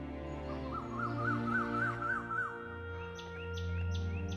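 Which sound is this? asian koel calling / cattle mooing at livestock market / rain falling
asian koel calling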